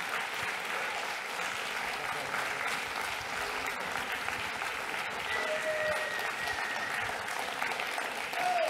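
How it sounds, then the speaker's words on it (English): Audience applause for award finalists brought onstage at the Games for Change 2018 Awards, a steady, dense clapping that fills the whole stretch at even loudness, with no voices over it. "big round of applause."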